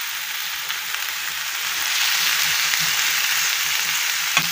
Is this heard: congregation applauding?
no